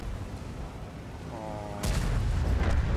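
Artillery shell striking a tank in a tank-battle video game: a sudden loud blast about two-thirds through, followed by a sustained heavy rumble, over a steady background of game noise.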